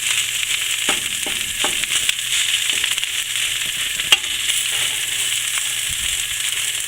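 Corned beef hash and hash browns frying in a pan at a deer camp, a loud steady sizzle with occasional scraping stirs and clinks of the utensil, close up and without talk.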